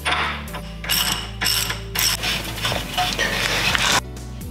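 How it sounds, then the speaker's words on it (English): A ratchet fitted with a 13/16 inch socket loosens the nut on the end of an outer Jeep tie rod, giving bursts of loud, close metallic clicking across several strokes with short pauses between them. "Using another 13th, 16th inch socket, we're gonna go ahead and remove this nut on the end of the outer tie rod."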